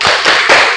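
A classroom of students doing a quick rhythmic spirit clap, a short burst of loud, close hand claps in a steady beat.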